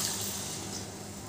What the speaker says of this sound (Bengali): এবার আমি দিয়ে দিচ্ছি 1 বাটি জল।